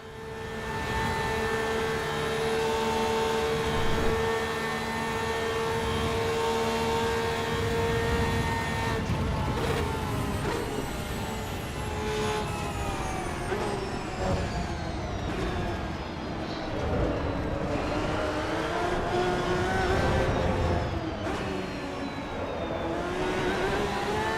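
Race car engines roaring in Assetto Corsa EVO at the Nürburgring, a steady loud drone of high-revving motors with shifting pitch as cars accelerate and change gear, continuous and alone throughout.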